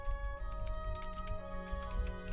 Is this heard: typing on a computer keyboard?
yes